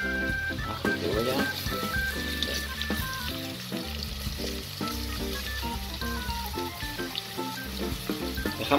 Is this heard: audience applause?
no